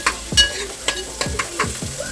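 Onion cooks in hot oil for a prawn curry while a spoon stirs it, giving repeated sharp scraping knocks against the pan in an uneven rhythm over a soft, steady sizzle, close and moderately loud.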